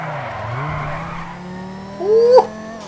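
Tires squeal as a car drifts in the video game GTA 5, a rising, wailing skid near the end over a steady, droning engine and background game noise.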